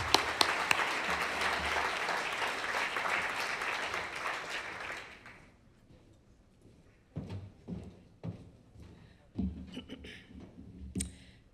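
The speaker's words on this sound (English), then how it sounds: "Please, a big applause." Audience applause at a business excellence awards evening in North Vancouver fills the first five seconds, then fades to near quiet broken by scattered footsteps and soft thuds as the presenter walks to the stage.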